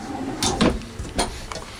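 A silverware drawer on ball-bearing guides in a 2012 Wildwood Xlite 171EXL travel trailer slides open and shut, giving a few short rolling clacks and thumps close by, with no voices.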